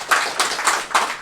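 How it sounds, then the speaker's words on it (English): During a speech, a crowd claps in rhythmic bursts, four or five evenly spaced loud pulses of many hands striking together, close and without any talk. "And you have to clap for that."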